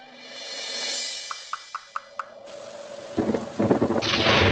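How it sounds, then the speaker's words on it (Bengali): Thunderstorm rolling in with a long low rumble of thunder, a short run of sharp knocks, then heavy rain bursting in loud and close. "এই তো ঝড় বৃষ্টি শুরু হয়ে গেল"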